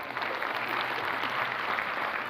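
An audience at the 2022 Ladli Lakshmi Utsav applauds the parents with a short, steady burst of clapping from many hands, heard somewhat at a distance.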